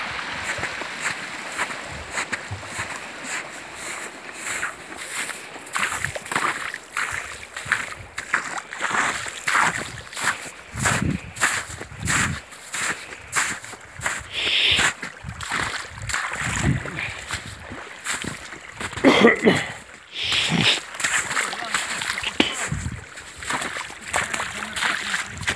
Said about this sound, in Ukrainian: А це тече так вода.